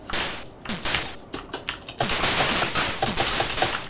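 Rapid gunfire from the ZX Spectrum game Licence To Kill, a run of sharp, bursty electronic shots repeating in quick succession at close, loud level with no talk.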